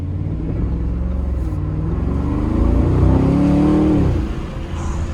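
A 2021 Audi SQ7, a heavy 500-horsepower performance SUV, accelerating hard from inside the cabin, a steady low engine rumble rising in pitch and loudness midway, then easing off, with no talk.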